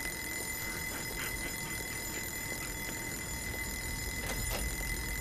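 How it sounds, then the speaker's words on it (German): An office alarm clock in the video game Joe's Diner rings continuously at a steady level for the whole stretch, bright and insistent, with no voices over it. "Das ist der Wecker im Büro."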